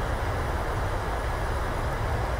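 Airliner thrust reversers in Microsoft Flight Simulator roaring steadily on landing, a loud, dense, continuous rush of engine noise with no pauses.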